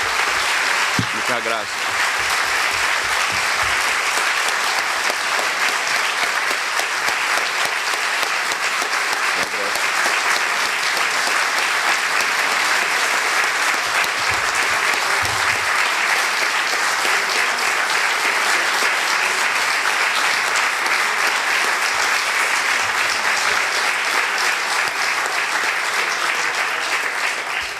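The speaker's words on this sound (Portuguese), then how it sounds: "Hermoso aplauso." Sustained applause from a lecture audience in a hall, dense and loud for nearly half a minute at an even level, with a brief thanks spoken over it near the start.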